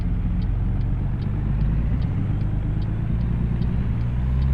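A truck with an Eaton Fuller 10-speed transmission pulls away in third gear, its engine a steady, close, low rumble with faint rhythmic ticking above it and no talk.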